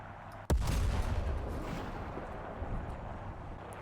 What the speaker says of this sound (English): I think this is more of a self-propelled artillery piece. Wow, that is practically a mortar.